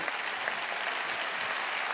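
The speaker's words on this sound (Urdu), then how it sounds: "آئیے ماؤں کے لیے تالیاں بجائیں." A crowd applauds for mothers at a religious gathering, a dense, even patter of many hands clapping that holds steady at moderate loudness throughout.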